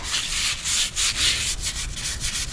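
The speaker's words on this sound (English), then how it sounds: "He's scrubbing away over here" A tombstone being scrubbed clean by hand, a steady run of rough brushing strokes in uneven rhythm, close and fairly loud with no talking.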